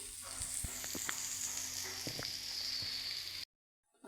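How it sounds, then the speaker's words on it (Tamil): Fish frying in a pan for sambar gives a steady soft sizzle with a high hiss and occasional pops, then cuts to near silence before ending. "மீன் வறுத்துட்டேன் பாருங்கள், சூப்பராக மீன் வறுத்தாச்சு"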